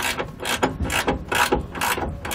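A ratchet wrench loosening a steering stabilizer bolt on a 2017 Coachmen Leprechaun: close, crisp bursts of clicking in a steady back-and-forth rhythm, about five strokes.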